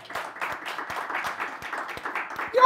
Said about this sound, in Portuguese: Eu pediria até uma salva de palmas para o Rodrigo Caio.